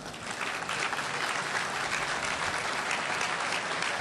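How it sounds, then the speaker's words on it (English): Steady, dense audience applause fills a formal testimonial dinner hall for about four seconds. The clapping sits close and even throughout, with no talk over it. "Please clap."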